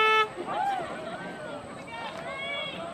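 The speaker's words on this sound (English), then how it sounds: "both teams, funnily enough, have brought their respective train horns to the game" Fans sound train horns in the stands at a high school football game, Tatum against White Oak: a loud sustained horn blast opens, then sliding, wavering horn tones ring over a noisy crowd.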